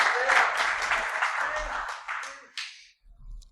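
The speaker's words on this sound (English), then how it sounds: "Everyone give Sam a clap." A conference audience claps in a sustained, fairly close burst that fades out after about three seconds, followed by a short quiet gap and a faint low murmur.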